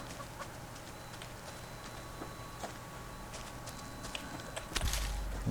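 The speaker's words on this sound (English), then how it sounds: "Lots of chickens, wow." Chickens cluck faintly in the survival video game Subsistence, short scattered calls against a quiet outdoor background with a few footsteps, no talking.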